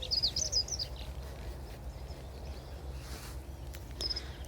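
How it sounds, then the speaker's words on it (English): A moorhen calls beside the River Welland at Deeping St James, a few high, sharp notes at the start and again near the end over a steady hiss of outdoor background. "That's the moorhen just calling out."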